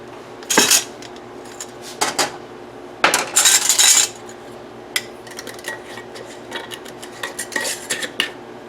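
Hot glass canning jars holding banana bread are lifted one at a time off a tray in the oven, producing sharp metallic clanks and glassy knocks in separate bursts against a quiet room, with no talking.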